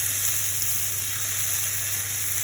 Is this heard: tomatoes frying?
yes